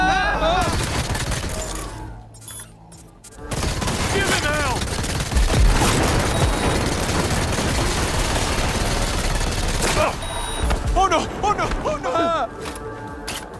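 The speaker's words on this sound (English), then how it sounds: "I really like in this submachine gun" Submachine gun fire in Cyberpunk 2077 comes as dense, rapid automatic bursts, loud and close. The bursts break off for a short lull, then resume with sharp mechanical clatter between volleys, and game effects and voices mix in.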